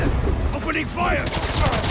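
Gunfire rattles in Marvel's Spider-Man 2 as a dense burst of rapid shots mixed with game sounds, loud and continuous over the short stretch, with a voice heard alongside.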